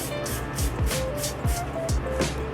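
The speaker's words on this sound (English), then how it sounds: "I'm going to spray some water in here." Spray bottle spritzing water onto a chalk art craft project, a quick series of short, sharp hissing bursts close to the microphone.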